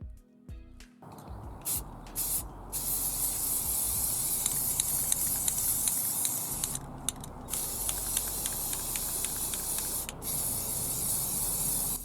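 Spray paint can hissing as blue paint is sprayed onto foam model airplane parts for a Delta 737 build, long close bursts with brief pauses between them.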